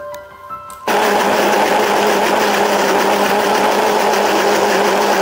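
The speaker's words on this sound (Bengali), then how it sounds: "একে একে আমি সবগুলো পেস্ট করে নিচ্ছি। আর এরই সাথে দিয়ে দিচ্ছি 2 চামচ আতপ চাল।" A blender or wet grinder loudly churns soaked mashkalai lentils with two spoons of atap rice into a paste, starting abruptly about a second in and then running as a steady, dense high whir alone.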